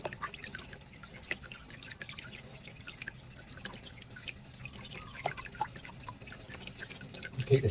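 Faint water trickling and dripping at a low level, with soft scattered splashes and small clicks throughout.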